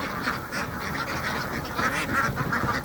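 Ducks quacking in a flock on a duck farm near Habiganj, Sylhet, as they are fed: dense, overlapping quacks running throughout at a steady, fairly loud level with no talk.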